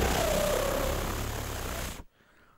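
A voice imitating the wings of big flying wood cockroaches, a steady buzzing drone held for about two seconds before cutting off sharply into near silence.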